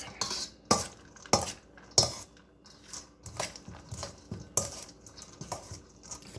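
Bacon egg foo young ingredients are tossed together in a bowl, giving irregular clinks and scrapes of a utensil against the dish, several sharper knocks among softer rustling, close and moderately quiet.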